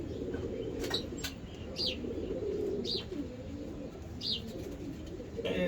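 Racing pigeons coo low and steady while brief wing flaps and faint chirps cut through at intervals, all at modest volume in open air.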